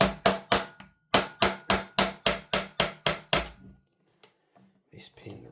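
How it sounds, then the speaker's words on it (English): Eleven sharp metallic taps ring out at a steady beat as a pin is driven from the bolt of a GHM9-SD gas blowback airsoft rifle, then stop, leaving faint handling noises and a voice. "I'm going to have to tap this out so I can reset the bolt."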